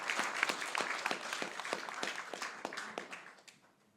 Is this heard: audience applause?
yes